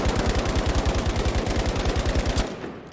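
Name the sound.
weapon gunfire with recoil in a video game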